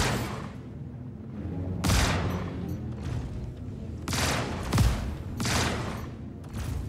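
Sustained gunfire bursts from Star Citizen spacecraft weapons rattle in repeated volleys with brief gaps, loud and dense throughout a space combat engagement.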